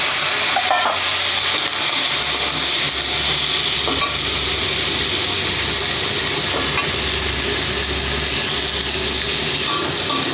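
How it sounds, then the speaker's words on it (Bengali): Ridge gourd pieces sizzle steadily in hot oil in a pan, a continuous close frying hiss across the whole stretch, with occasional faint scraping and stirring knocks and no voices. "ঝিঙের টুকরোগুলো একটু ভেজে নেব ভালো করে।"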